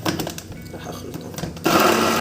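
An electric blender whirs through garlic, lemon juice and olive oil for a potato and chicken oven tray, starting with short uneven pulses and then a loud steady run at the end.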